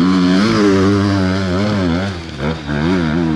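A four-stroke enduro motorcycle revs hard in a quarry enduro centre, its loud engine rising and falling in pitch close by with no talking.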